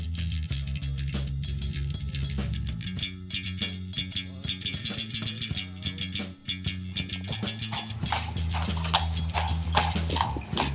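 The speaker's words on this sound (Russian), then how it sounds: "А, чувак гонится с лошадкой." Horse hooves clip-clop steadily on a city street in Belgium or the Netherlands, a close, rhythmic clatter that runs throughout, joined by a few brief dog-like whimpers and a possible whinny.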